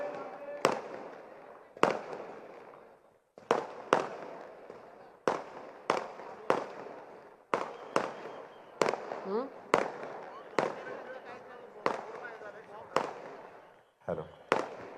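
Firecrackers and fireworks go off during an outdoor public speech in Kalyan city, sharp loud bangs repeating roughly every second with crackling between, while a voice speaks underneath.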